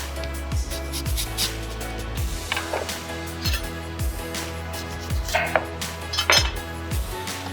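Peaches and blackberries tossed with honey, lemon zest and lemon juice in a bowl, giving soft repeated clinks and knocks of utensils against the bowl in an irregular rhythm, close and moderately quiet.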